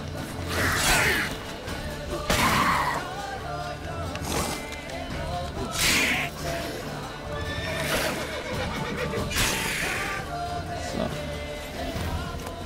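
Horse in The Witcher 3 video game whinnying loudly several times over steady hoofbeat clip-clop, with a spread of game sound effects in the background.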